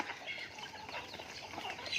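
Farm chickens clucking as they gather to feed, a soft steady chorus of nearby clucks and rustling with no talk.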